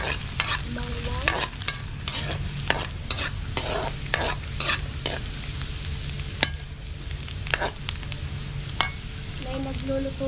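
Garlic sizzles and fries in a pan while a utensil scrapes and stirs it repeatedly, close and lively, with light clinks and faint voices in the background.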